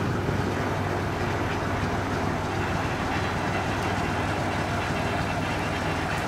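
A GE25T diesel locomotive shunting wagons in a rail yard at Rio Negrinho, Brazil, a steady loud rumble of engine and rolling cars that carries on throughout with no talking.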